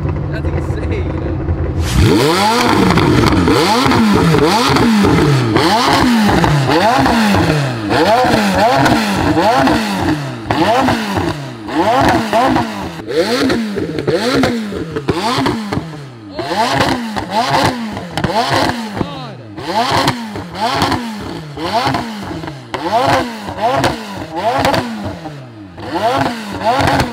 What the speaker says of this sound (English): That's the blow up valve.